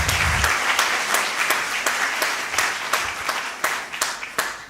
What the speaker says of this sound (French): Voilà, un grand applaudissement.